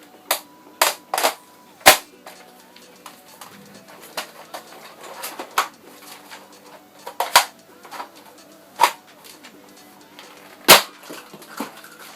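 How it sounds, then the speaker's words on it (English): A modded Buzz Bee Air Max 6 dart blaster fires six darts in a string of sharp, loud pops spaced unevenly over about twelve seconds, with faint mechanical clicks between shots and no talking. "And I'll be firing 6 off into that target over there as usual."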